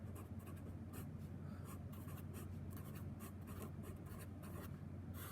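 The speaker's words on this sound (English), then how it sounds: "So let's go ahead and write parallel slope here." A pen writing during a precalculus math lesson, with continuous close scratching and rubbing strokes and short pauses between words, no voices.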